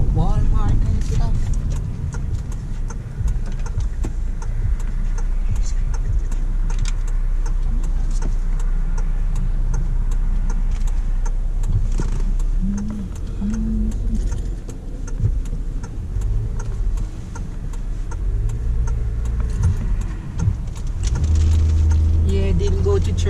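Car cruising on a road on a Sunday drive to go shopping, with a steady low engine and tyre rumble heard from inside the cabin, constant and fairly loud throughout.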